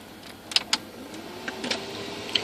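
A heater runs under the dash of a 1995 Chevrolet 5.7 L V8 4x4 Z71 farm truck, a low hum and whir broken by several sharp clicks and ticks, close and moderately loud.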